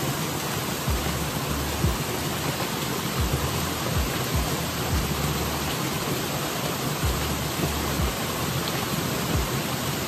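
Waterfall at Vagamon, a steady, dense roar of falling water that fills the whole clip without pause, with faint low thumps underneath and no talking.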